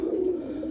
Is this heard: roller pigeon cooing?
yes